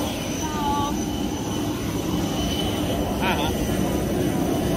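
An airplane at boarding gives a loud, continuous engine and cabin drone that holds steady throughout, with faint voices mixed into the roar.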